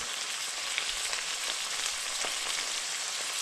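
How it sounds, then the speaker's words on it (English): Chicken manchurian sizzles steadily in a pan as it is stir-fried with black pepper, an even close hiss with faint stirring scrapes and no talking. "and again stir fry it nicely"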